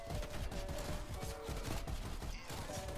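Rapid gunfire from a weapon in a Call of Duty zombies match on the Die Maschine map, with a fast burst of repeated shots rattling steadily for a few seconds.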